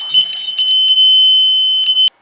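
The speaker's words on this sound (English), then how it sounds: "the buzzer rings." A smart home security buzzer sounds a loud, steady high-pitched alarm tone that rings continuously for about two seconds, then cuts off abruptly.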